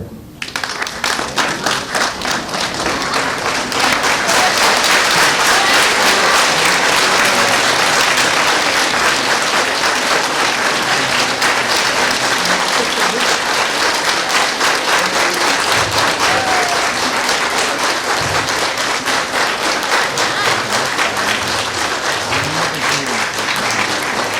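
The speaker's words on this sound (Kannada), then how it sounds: "ಎಲ್ಲರೂ ನಿಂತ್ಕೊಂಡು ಒಂದು ನಿಮಿಷ ಈ ಎಲ್ಲಾ ಮಕ್ಕಳಿಗೆ ಚಪ್ಪಾಳೆ ಹಾಕಬೇಕು." A school audience stands and applauds children after a class 10 performance of the play Halagali Bedara Dange, a dense, loud, sustained round of clapping that fills the hall for over twenty seconds.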